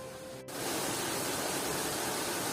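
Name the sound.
small waterfalls in a park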